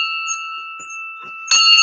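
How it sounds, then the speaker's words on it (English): A sustained bell-like electronic tone rings steadily, with faint voice fragments underneath, then a brighter, louder tone cuts in near the end. "So let's do the train bell."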